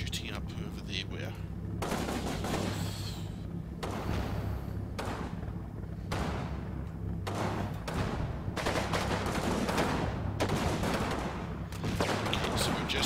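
Gunfire from a Combat Mission battle near Aachen: repeated bursts of machine-gun and rifle fire, some near and loud, others distant, with heavy thuds under continuous battle rumble.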